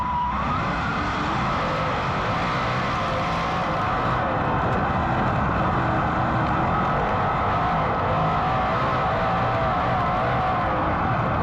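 Sprint cars racing in a heat race at the Ironman, heard as a loud, steady engine roar that fills the whole stretch with no voices.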